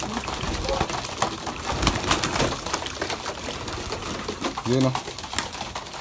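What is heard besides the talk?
pigeons cooing while being fed probiotics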